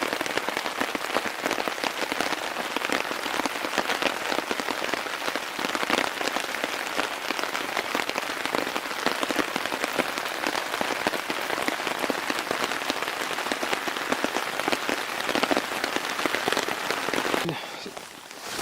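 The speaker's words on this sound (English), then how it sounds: "Gotta get out of the rain." Steady rain pattering on a campsite, a dense, even hiss of drops on surfaces that continues unbroken and then briefly softens at the very end.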